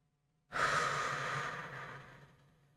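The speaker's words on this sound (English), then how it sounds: "So let's take a nice deep breath." A single deep breath during a calm guided meditation: a soft, drawn-out exhale that starts suddenly after silence and trails off over about two seconds, close and quiet.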